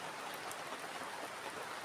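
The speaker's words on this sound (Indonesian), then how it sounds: "walaupun malam ini hujan-hujan seperti ini ya" Steady rain falling at night at a campsite beside a river under a large tree, a dense, even hiss of drops on surfaces with no breaks and no voices.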